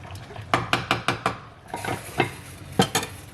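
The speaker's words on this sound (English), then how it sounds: "Stir a little bit." A spoon stirs rice in a metal pot on the stove, giving a quick run of close scraping clinks and taps followed by a few more scattered strokes, with light sizzling underneath.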